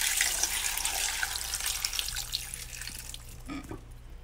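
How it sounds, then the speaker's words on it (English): Water running from a tap into a larger soup pot in a home kitchen, a steady broadband splashing flow that gradually eases, with a few faint clinks near the end. "Adding more water."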